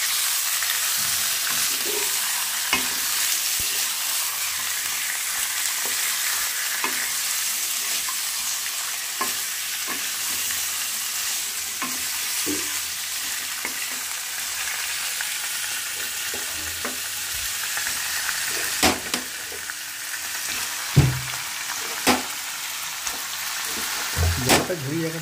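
Chicken for palak chicken sizzles and fries steadily in a pan, with periodic soft scraping and clacking as it is stirred slowly, the constant hiss of frying underneath.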